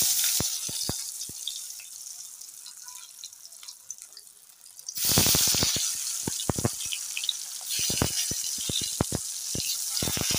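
Eggplant slices rubbed with salt and turmeric frying in hot oil: a few sparse crackles and clicks at first, then a loud, dense, steady sizzle with sharp popping spatters running through the second half.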